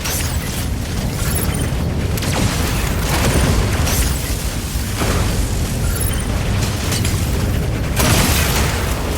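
A giant warship blows up in the mech combat game Mecha BREAK, heard as a sustained, loud roar of explosions and booming blasts with mechanical clatter throughout, swelling in repeated surges.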